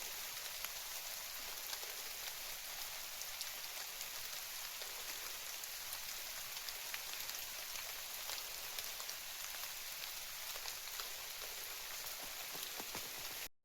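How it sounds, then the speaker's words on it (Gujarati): Steady rain pours over an open farm field, a dense, even hiss of drops striking the ground that holds unbroken and fairly loud from start to finish with no voices. "તો વરસાદ આવી ગયો છે, તમને બતાવો."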